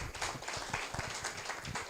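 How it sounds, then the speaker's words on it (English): A medical education conference audience in Lagos gives a round of applause for a speaker, faint, rapid, steady clapping from many hands in a large room. "I think we should give another round of applause for Professor Campbell."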